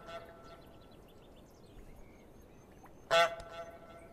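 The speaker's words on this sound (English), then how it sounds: "Your honk will echo down the well!" Goose honk in Untitled Goose Game on Nintendo Switch, a single short loud honk late in the clip standing out over quiet ambient game sounds and faint bird-like chirps.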